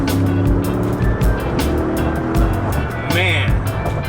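A Mercedes-Benz G550 pulls smoothly under light throttle on the West Side Highway, its engine a steady low drone with a brief rising sweep near the end, heard under someone talking over it throughout.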